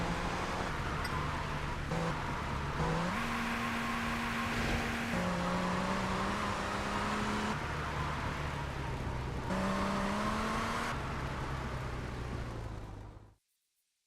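A car drives and slides along a road in GTA: Vice City Stories, its engine droning steadily with pitch shifting up and down as it revs, continuous and fairly loud until it cuts off abruptly.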